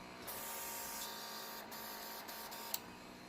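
An Apres airbrush hand piece for nail gel runs at low speed, giving a quiet, steady mechanical hum and hiss close by with a few faint clicks, and no voices.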